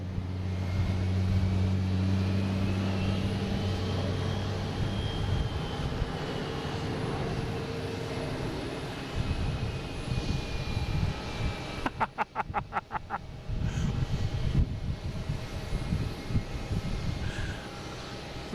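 United Airlines jet engines at Boston Logan International Airport roar loudly and steadily throughout, with a rising whine and a rumbling surge partway through.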